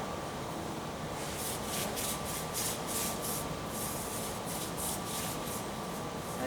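A spray bottle wets down a painting in progress with a rapid series of about a dozen short hissing bursts in a rough rhythm, close and steady against a constant airy background.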